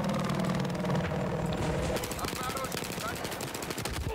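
Automatic gunfire in the Battlefield 4 video game on the Giants of Karelia map, dense rapid bursts running throughout with loud battle noise and no pause.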